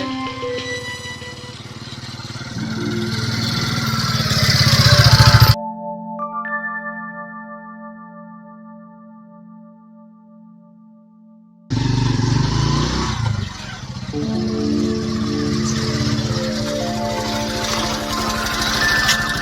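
A Mahindra Centuro motorcycle converted to run on an LPG kit, carrying about 100 kg of load, runs loud and close. A few seconds of electronic chime tones interrupt it midway before the engine noise returns.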